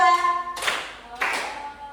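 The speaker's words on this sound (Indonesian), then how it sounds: "Tepuk 1, tepuk 2, tepuk 3, tepuk 4, tepuk 5" Two sharp hand claps in a classroom clapping game, each a bright broadband burst about half a second apart, ringing briefly over a held voice tone at the start.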